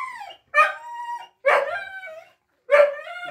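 A dog howls in three drawn-out, wavering cries separated by short pauses, loud and close with no talking.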